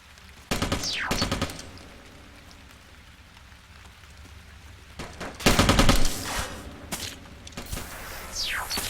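Gunfire in a firefight in the video game Interstellar Marines comes as several short, loud automatic bursts separated by quieter gaps, with some sweeping whooshes between the shots.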